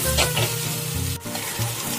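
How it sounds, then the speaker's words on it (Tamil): Masala spices, coriander powder among them, sauté and sizzle in a pan for crab pepper masala, a steady close hiss with the scrape of stirring and a brief dip midway. "இந்த மசாலா நல்லா வதக்கி கொடுப்போம் ஒரு 2 நிமிஷத்துக்கு."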